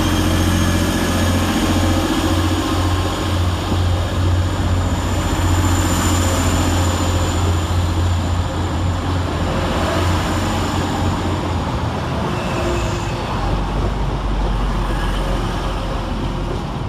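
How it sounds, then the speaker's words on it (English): A Class 185 TransPennine Express train pulls away from Thornaby station, a steady loud rumble of diesel engine and rolling wheels with a low drone that holds throughout, no talk over it. "Next train out to depart is 185128 and 185135. With the 1431 Transpennine Express service from Manchester Airport to Redcar Central."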